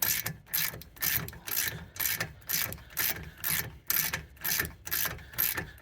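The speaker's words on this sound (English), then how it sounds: "I'm using just a regular old ratchet. It's 18. Yeah, it's 18 millimeter head on those bolts." Regular ratchet running down 18 mm rear brake caliper bolts on a 2020 Dodge Charger, a close, loud series of rhythmic ratcheting bursts, roughly two per second, with brief pauses between strokes.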